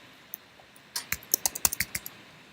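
Quick run of keystrokes on a computer keyboard as commands are entered during a database class session, about ten close, crisp clicks in a brief uneven burst after a single isolated tap.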